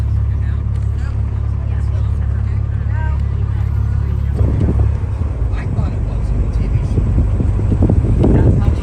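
Inside a moving school bus on a tour, a steady low engine and road rumble fills the cabin while passengers talk and murmur over it.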